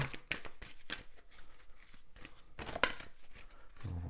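Oracle cards being shuffled for a card reading, a soft series of close, quiet papery riffles and taps spread unevenly across a few seconds, with no talking.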